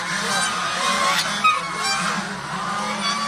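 Geese brooding on eggs in a natural-hatching setup give off faint, scattered honks over a steady low hum of background noise.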